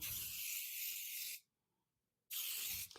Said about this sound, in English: Let's get our next sheet. Give it a good spray.